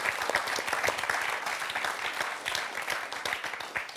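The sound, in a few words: studio audience applauding on a quiz show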